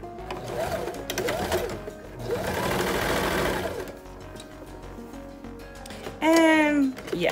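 A sewing machine stitching satin silk dress fabric, running in steady whirring bursts at close range, with a voice briefly heard over the motor.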